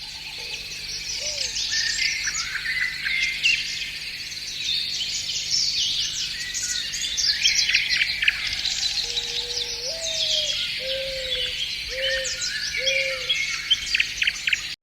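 Forest ambience with dense insect and bird chirping throughout, and a few clear whistled bird calls repeating in the later half, moderately distant.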